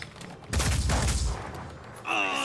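Gunfire in the video game Terror from the Void: a loud, dense burst of shots lasting about a second, fading into a rumbling tail, followed by a brief tonal game sound.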